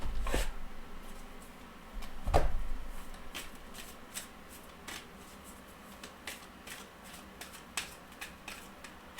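A deck of oracle cards is shuffled by hand, two louder riffles at the start followed by a run of soft, quick flicks and taps, close by and quiet.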